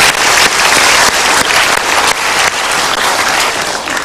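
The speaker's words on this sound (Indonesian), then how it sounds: "kita berikan tepuk tangan dulu" Loud, dense applause from a studio audience at an Indonesian motivational talk show, a continuous wash of many hands clapping close and full for several seconds.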